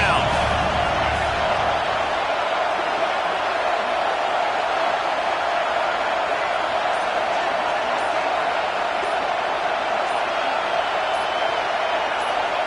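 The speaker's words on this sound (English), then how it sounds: "Decibels rising as the crowd gets behind this defense on third down." Dense crowd roar fills a football stadium as fans get loud for the defense on third down in a Dawgs game, a steady broadband wash that holds strong throughout with no clear break.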